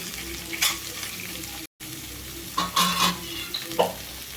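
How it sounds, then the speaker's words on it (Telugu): Pieces of beans and carrot fry in oil for a catering-style carrot-beans fry, with a soft continuous sizzle and several bursts of scraping as a spatula stirs them, heard close up. "బీన్స్ ముక్కలు క్యారెట్ ముక్కలు అన్నీ వేసేసుకున్న తర్వాత ఆయిల్లో బాగా వేగనివ్వాలండి"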